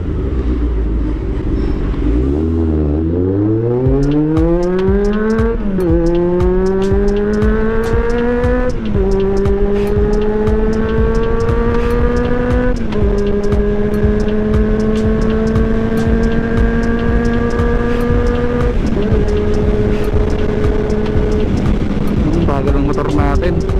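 A Honda CB400 Super Four motorcycle engine screams loud and close as the rider accelerates, its pitch climbing through several gear shifts, with a brief voice at the start and wind buffeting throughout.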